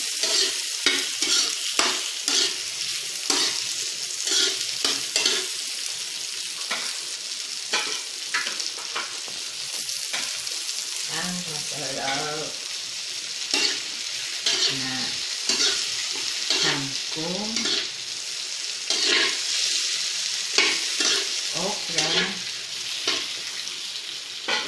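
Tomatoes sizzling in a pan for adobong kangkong with tofu, a continuous close fry broken by frequent spatula stirs and scrapes, with some juicy bubbling bursts in the middle, no talking.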